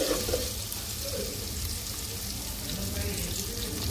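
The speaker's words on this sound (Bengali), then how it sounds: "তো পেঁয়াজটা ভেজে নিই" Onions frying in a pan for a Bengali curry with Malabar spinach stalks and green chillies: a steady, even sizzle with soft watery crackle throughout.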